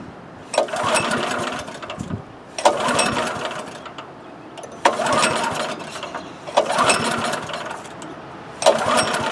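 A Honda GX160 engine on a Troy-Bilt rototiller is pulled over and sputters briefly to life, then dies right away; the cycle repeats five times, each a short rough run followed by a stop.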